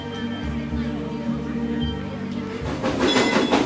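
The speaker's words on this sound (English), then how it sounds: "no trip to Silver Dollar City is complete without a ride on the train" An amusement park train ride at Silver Dollar City rolls along its rails with a steady rumble and rhythmic clicking, growing louder and noisier toward the end as voices mix in.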